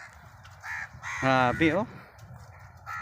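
Crows being fed by hand give a few harsh, close caws in quick succession, with someone speaking softly and other faint bird calls around them.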